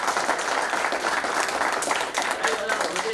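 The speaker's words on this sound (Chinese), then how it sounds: "掌声鼓励一下吗？" Applause from a packed live audience at a talk show taping, a dense continuous clapping that holds steady at full strength for the whole stretch.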